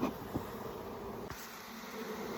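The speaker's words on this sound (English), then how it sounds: "This hive has got a lot of bees in it." Dense, steady buzzing of many honeybees in a crowded hive close by, a continuous insect hum with no talking.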